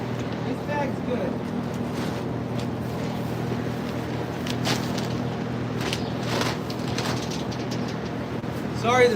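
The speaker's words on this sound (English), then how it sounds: "Sorry the fan is making all that noise." An electric fan runs steadily close by on a farm, a constant low droning hum with faint voices and thin clattering sounds over it.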